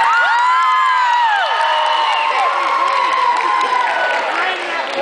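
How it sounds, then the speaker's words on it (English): Middle school students cheer, shout and whoop for a contestant at a school assembly, a loud, dense crowd roar with high children's voices rising and falling throughout, light clapping mixed in. "Round of applause"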